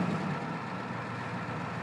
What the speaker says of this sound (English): I like to warm up diesels a little bit before I really go revving them